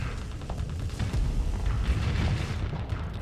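Hellbore shells slam into raised ship shields in the space combat game Starsector, a run of deep booming impacts and rumbling blasts layered over a dense, low battle din.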